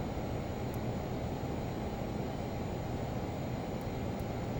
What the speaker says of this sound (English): Ideally, want to try to stall the airplane just above the runway there.